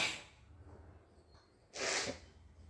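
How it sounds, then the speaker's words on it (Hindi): A woman sneezes close by, one loud sharp burst after a short breathy intake, heard alone against quiet room tone. "मैं तो छींकों से परेशान हो गई भाई, इतनी छींक आ रही है मेरे को"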